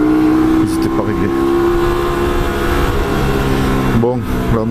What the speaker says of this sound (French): Bon, là, le moteur est froid, on verra après pour le comportement moteur.